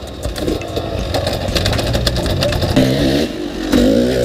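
Enduro motorcycle climbing a rock face, engine revving loudly and steadily up close, with rising pitch surges as the throttle opens and wheels clatter on the stone.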